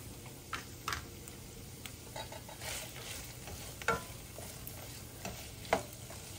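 Green onion fries in a pan for lettuce wraps, a soft, low sizzle with occasional light clicks and taps of a utensil scattered throughout.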